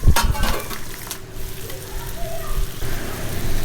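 Chicken frying with golden onions in a pan, a continuous sizzle and hiss with a few clinks of a utensil at the start and some low background noise.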